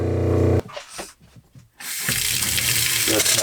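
Water gushes from the hot tap of a skoolie's plumbing system, hissing loudly and close, breaking off briefly before surging back strong and steady.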